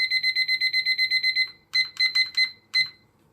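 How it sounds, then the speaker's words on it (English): A 30-second kitchen-style timer beeps: rapid, steady electronic bleeps run about a dozen times, then break into several shorter bursts, loud and close with no talking. "I'm going to set up a 30-second timer"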